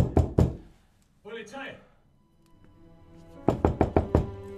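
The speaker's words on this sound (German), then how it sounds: "Das Klopfen an der Tür." Sharp knocking on a door in a German thriller film, a quick pair of loud raps, a pause with a short muffled sound, then a rapid series of five or six knocks close by.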